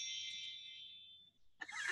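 A phone notification ding rings out as a single bright chime that sustains and slowly fades over more than a second, followed by a brief clatter at the end.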